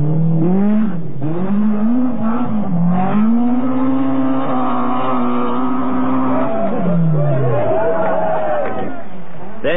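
A 1989 BMW M3 rally car prepared by the Prodrive team races along a stage of the Rallye de Portugal, its engine snarling and rising and falling steadily through the gears, loud and close, with a commentator speaking over it.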